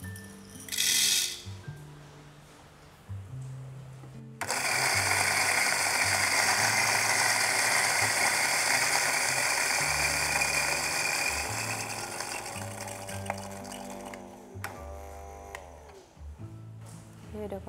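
A hand-cranked manual grinder grinds coffee beans in a continuous gritty rattling churn, close and loud, framed by brief clatters and handling noises at the start and end.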